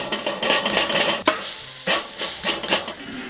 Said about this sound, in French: Je vais huiler les grilles. Tu vois la réaction quand on met de l'huile